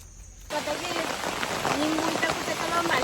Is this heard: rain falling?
yes